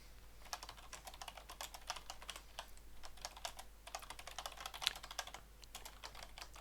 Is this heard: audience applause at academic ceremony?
no